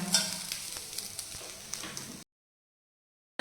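Vegetables already fried, tipped all at once into a wok and reheated, give a steady close sizzle with faint stirring for about two seconds before the sound cuts out.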